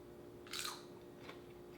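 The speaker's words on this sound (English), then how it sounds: "Hear that crunch?" A homemade sweet potato chip crunches in one sharp, close bite, followed by a fainter second crunch, over a quiet background with a low steady hum.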